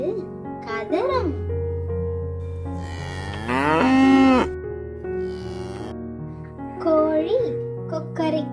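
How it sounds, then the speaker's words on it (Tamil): A cow gives one long, loud moo in the middle, with a voice and gentle music before and after it. "மாடு கதறும்,"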